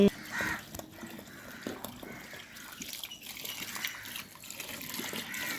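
Water pours and splashes steadily from a pot, a continuous trickling gush that stays moderately close throughout.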